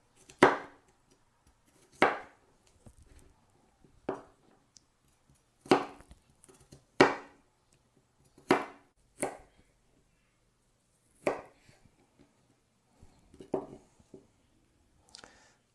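Knife chopping a single jalapeno on a cutting board: about a dozen sharp, distinct chops spaced out unevenly, close and clear with quiet gaps between them and no talking.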